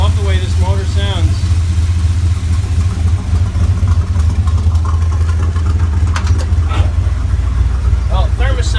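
A 305 V8 idles in a 1953 Bel Air gasser with a loud, steady low rumble throughout, and a voice talks over it briefly at the start and again near the end.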